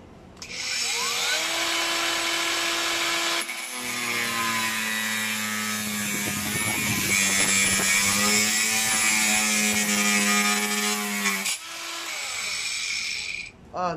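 A cordless 20 volt Fixman angle grinder spins up to a loud steady high whine and cuts through material, the pitch sagging and grinding under load before spinning down, with a brief restart near the end.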